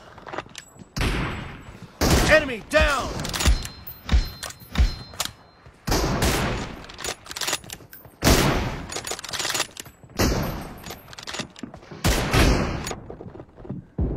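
Gunfire in the mobile battle royale game BGMI, a series of sharp shots scattered through the clip amid busy in-game sound and game music, fairly loud and close.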